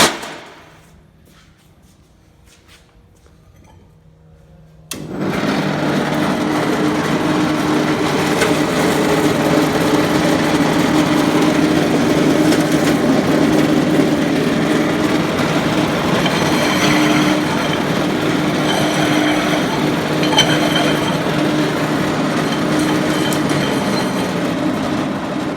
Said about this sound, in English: that is an Edco concrete grinder